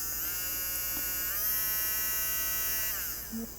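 A Hardell mini cordless rotary tool runs steadily at speed, giving a continuous high whining buzz that shifts pitch as the speed changes, then winds down near the end.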